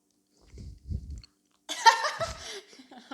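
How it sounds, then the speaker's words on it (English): Someone chews a mouthful of beans close to the mic, with a few soft, wet mouth sounds and bites separated by silence, followed by a brief burst of laughter. "Yeah, I can hear you chewing right now."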